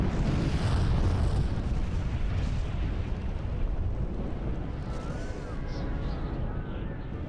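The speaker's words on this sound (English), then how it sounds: "Willem Beering, the controller of Ketimbang, witnessed this huge eruption" The cataclysmic Krakatoa volcanic eruption: a deep, rumbling roar of explosion that fills the scene, heavy low booming that slowly fades under continuing noise.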